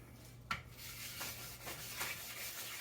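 Steady rubbing scrape of a blade worked across a sharpening stone during stone lapping, with a few brighter strokes standing out over a constant low background hum.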